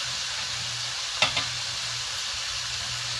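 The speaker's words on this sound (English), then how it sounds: "I'm frying chicken and talking to y'all" Chicken fries in a pan with a steady, close sizzle and crackle, broken once by a brief sharper spatter.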